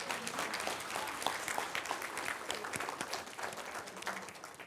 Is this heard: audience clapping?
yes